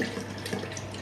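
Water streams steadily from a watering container onto a potted dendrobium orchid, a soft continuous trickling splash close by with no voices.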